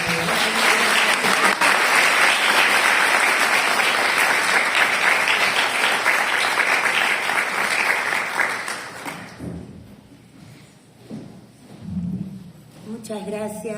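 Sustained audience applause at a university presentation in Mexico greets a speaker introduced to lead a psychoanalysis workshop, loud and dense for about nine seconds before fading out into scattered claps and the first words of her reply.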